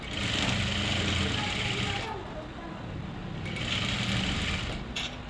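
A sewing machine stitches a lehenga made from salwar fabric, running in two steady bursts with a short pause between, close and fairly loud, while someone talks over it.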